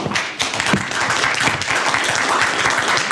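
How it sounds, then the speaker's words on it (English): Audience applause at a legislative update meeting, a dense steady wash of many hands clapping for about three seconds, fairly loud and continuous with no talk over it. "please refrain from applause"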